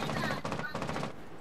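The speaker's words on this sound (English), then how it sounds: "he's shooting" Gunfire in Rainbow Six Siege: a quick burst of several rapid shots in close succession, moderately loud, that stops abruptly, with a voice faintly present.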